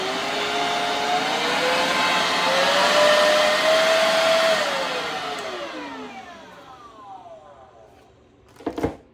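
Gochifix cordless leaf blower whining loudly through its five speed settings, the pitch stepping up and then falling away as it powers down, with a couple of clicks at the end.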